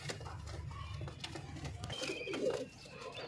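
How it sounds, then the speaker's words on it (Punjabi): Rampuri pigeons in Faisalabad coo softly and faintly in a quiet setting, with a brief murmuring call late in the clip. "ਬੜੇ ਕਮਾਲ ਦੇ ਕਬੂਤਰ ਨੇ"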